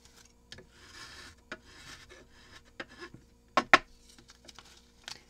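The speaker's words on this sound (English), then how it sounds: "It's just going to scrape right off" A Tonic Studio scraper scrapes residue off a glass craft mat in short, dry rasping strokes. Sharp clicks and taps of the tool against the glass come between them, with no talking.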